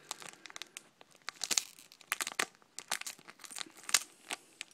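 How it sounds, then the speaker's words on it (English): Scissors snip and crunch through the plastic top of a first edition Pokémon card blister pack, a dense run of close, sharp crinkling cuts with no talking. "So I'm gonna cut the top off of these."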